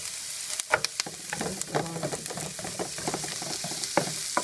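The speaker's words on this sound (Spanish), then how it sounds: "Vamos a dejar que la cebolla y el pimiento se vayan cocinando." Onion and bell pepper fry in a pan for a Puerto Rican-style potato pastelón, giving a steady close sizzle broken by sharp clicks and scrapes as the vegetables are stirred, with no talking.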